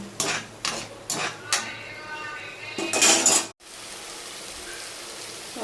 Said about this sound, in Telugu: ఇదిగో జీలకర్ర, ధనియాలు, కొంచెం గరం మసాలా, పచ్చిమిర్చి, ఇవన్నీ తిప్పుకుందాం